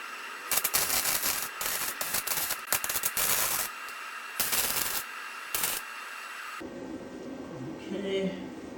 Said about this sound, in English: I'm gonna finish welding this real quick and then I'll disassemble that.